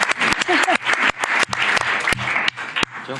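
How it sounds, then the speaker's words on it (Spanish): Applause at a conference session in the Spanish Congress of Deputies, with distinct sharp claps landing among a looser patter of clapping from a modest crowd, heard close and fairly loud, with voices faintly underneath. "Vosotros aplaudir, que aquí se aplaude mucho en el Congreso"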